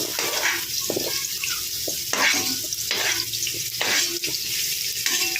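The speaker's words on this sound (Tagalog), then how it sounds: "At isasunod po natin yung carrots po para maprito din po siya" Carrots frying in hot oil in a pan give a steady, loud sizzle and crackle throughout, with a few clinks and stirring scrapes on top. No one speaks.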